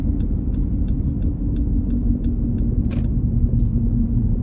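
A car cabin fills with a steady, loud low road rumble while driving, with a faint regular ticking running over it and no talk.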